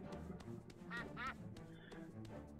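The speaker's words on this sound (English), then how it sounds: "Holy shit, we stole a duck!" A duck in the farming life game My Time At Portia lets out a few bright, nasal quacks in quick succession, heard close over soft game background sounds.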